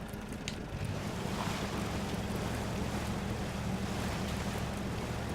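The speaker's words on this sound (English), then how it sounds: "So that's your exhaust bubbling out of the water." Truck exhaust bubbling and gurgling from under river water in the Spintires Mudrunner game, a steady dense churning wash with low engine rumble underneath, continuous and fairly loud throughout.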